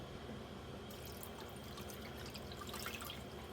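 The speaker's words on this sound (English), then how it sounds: "I'm going to go ahead and wash the jars and go on from there." Tap water runs into a sink while glass jars are washed, a faint continuous trickle with light splashing and clinks.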